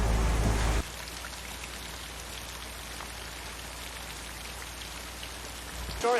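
Steady heavy rain hisses continuously in a scene from the film Psycho, with scattered drops pattering nearby; a louder burst at the start, then an even downpour with no voices.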